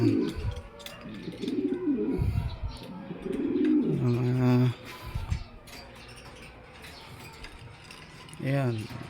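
Pigeons nine to ten months old coo in a loft, deep rolling coos in several bursts with a mechanical rattle in the background, and a person talks over part of it.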